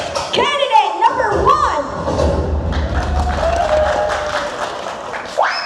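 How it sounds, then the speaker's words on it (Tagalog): A pageant crowd bursts into applause and shouting for a candidate, a dense, close roar of clapping mixed with young voices and a few thumps that carries steadily for several seconds. "Palakpakan at sigawan for"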